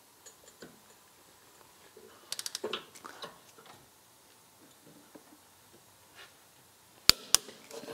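A wrench tightening a BMW Z3 rear axle bolt to torque in a garage gives faint ratcheting ticks and metallic clicks, with a short burst of rapid clicks mid-way and two sharp clanks near the end, quiet surroundings otherwise.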